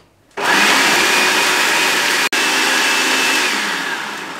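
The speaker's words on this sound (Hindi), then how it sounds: "हमारे पास ये 5 अदद सब्ज मिर्चें हैं जो कड़वी कम होती हैं, ये शामिल कर दें चॉपर में।" An electric food chopper whirs loudly and steadily as it finely chops five mild green chilies and fresh coriander, the motor running continuously and stopping for a split second midway before starting again and running on.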